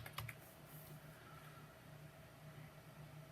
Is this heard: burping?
no